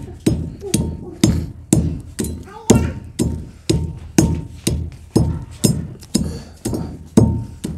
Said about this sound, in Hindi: सबसे पहले आपने संगजरा को पीस लेना है उसके बाद आपने फटकरी को डालते जाना है पीस लेना है